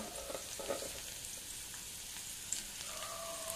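Onion frying in oil in a pan while Maggi noodles are being cooked, a soft, continuous crackling sizzle with a few light stirring scrapes, faint and steady.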